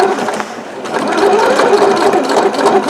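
A rented domestic sewing machine stitches through heavy denim jeans, a steady strained motor whir that runs loud and continuous for about three seconds, with no talking.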